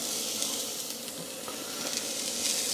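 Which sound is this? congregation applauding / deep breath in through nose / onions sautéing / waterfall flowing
onions sautéing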